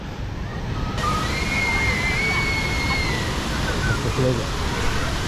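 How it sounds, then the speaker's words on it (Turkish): Water sloshes and splashes continuously in a pool, with distant children's voices and outdoor chatter mixed into the steady wash of sound. "Petronas'ın yanında su havuzunda çocuklar yüzüyor."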